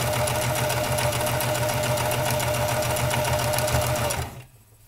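A sewing machine stitches a pair of pants in a fast, steady mechanical whir with a sustained hum, running loud and close before stopping abruptly near the end.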